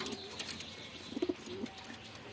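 Giribaz and Madras pigeons in a cage give soft, low coos in brief clusters amid quiet rustling and light flutters, faint and close.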